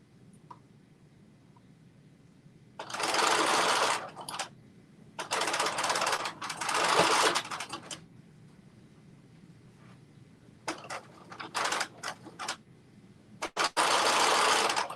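Domestic sewing machine stitching fabric edges in bursts, several runs of fast, close mechanical whirring separated by quiet pauses, fairly near and alone without talk.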